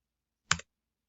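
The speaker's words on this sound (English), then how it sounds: "Notice how I'm typing that." A single sharp keystroke on a computer keyboard, one crisp click alone in near silence.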